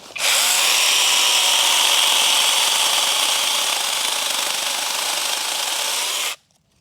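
A BULL BL510 cordless chainsaw runs continuously for about six seconds, giving a loud, harsh, grinding whine while cutting, starting abruptly and cutting off sharply at the end.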